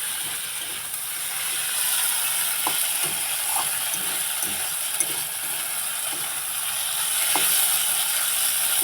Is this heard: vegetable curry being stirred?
yes